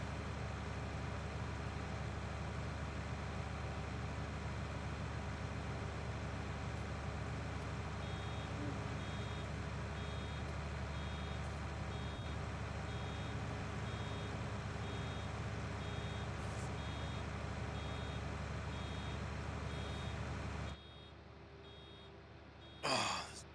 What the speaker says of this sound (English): Endless round bale beeping.